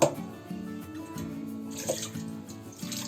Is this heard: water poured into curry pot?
yes